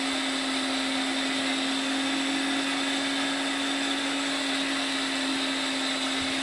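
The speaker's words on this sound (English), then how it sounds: "You use an electric grinder." An electric grinder whirring as it grinds tomatoes for a stew base, a loud steady motor drone holding one even tone throughout with no talking.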